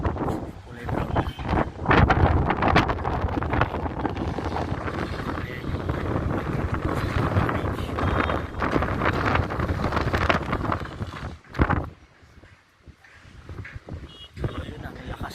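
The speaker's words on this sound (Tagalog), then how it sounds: "Sobrang lakas ng hangin dito sa Arotec." Strong wind roars and buffets a camera microphone outdoors at Arotec beside an overhead water tank, loud and continuous for most of the time before dropping off abruptly near the end, then gusting back up faintly.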